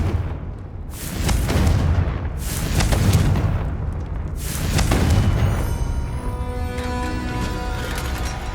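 Three heavy booming blasts of the Confringo fire spell in Hogwarts Legacy roll out about a second and a half apart, each a deep, loud burst, followed by a rumbling, ringing tail.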